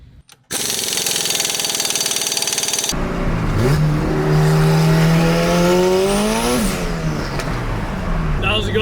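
Big-turbo Honda Civic pulling hard in third gear, engine note rising steadily with loud, close revving and turbo whine building over several seconds before easing off.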